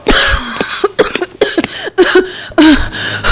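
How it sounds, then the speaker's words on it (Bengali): A woman coughs repeatedly in a short series of harsh, close bursts with brief breathy pauses between them, some sounding like throat clearing. "কাশিটা কিছুতেই কমছে না।"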